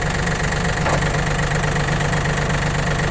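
A Yanmar FX255 Japanese tractor fitted with a loader and rotary tiller runs at idle, giving a steady, close mid-pitched engine hum with an even low rhythmic thrum throughout and no talking.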